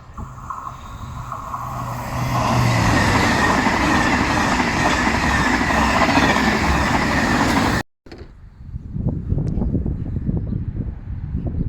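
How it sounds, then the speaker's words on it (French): A TGV high-speed train passes close by in a loud, sustained rush of rolling wheels and wind. The roar cuts off abruptly, then a quieter, uneven rumble follows. "Oh bah c'est cool encore à TGV"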